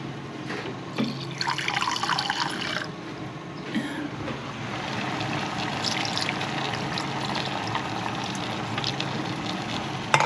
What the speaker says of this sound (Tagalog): Lagyan pa natin ng tubig.